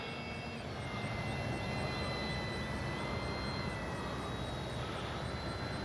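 Electric motor of a radio-controlled model airplane with flaps, giving a continuous high whine under a broad steady roar as the throttle is held up.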